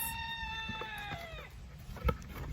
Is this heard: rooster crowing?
yes